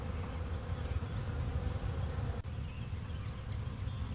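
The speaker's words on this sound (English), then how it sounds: "do they cause the bees that are foraging to shed the pollen from their hind legs?" Honey bees buzz continuously at a hive entrance fitted with a queen excluder as foragers carry pollen in, a soft, dense drone from many insects heard close by without speech.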